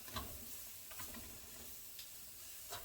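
Mushrooms stirred into steak and tomato gravy in a pan, a faint, low sizzle with soft scraping stir strokes and a few light clicks, close but quiet.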